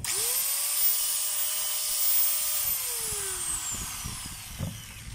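A power tool motor, test-run after new bearings and carbon brushes are fitted, spins up to a loud, high whine, holds steady, then winds down, ending with a few clicks and knocks.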